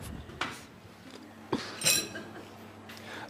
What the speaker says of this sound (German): Ich räume schon mal ab.